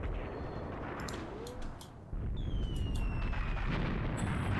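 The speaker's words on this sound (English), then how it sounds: "We've still got that mortar fire coming in" Mortar rounds exploding in the Tank Warfare: Tunisia 1943 battle at Longstop Hill, a steady rumbling barrage that swells into a louder, denser roar halfway through, with faint high whistles overhead and no talk.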